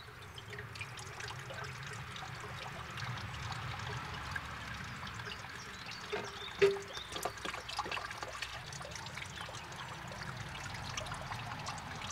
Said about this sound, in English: When the water level increases above the pipe level, then water flows out the pipe.